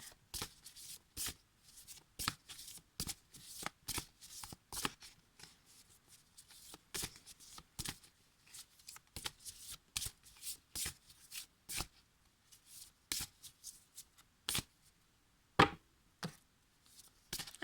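Oracle cards are shuffled for a reading, giving a long run of crisp, papery riffles and slaps in irregular bursts. They stay fairly close and clear, with short pauses between, and no talking.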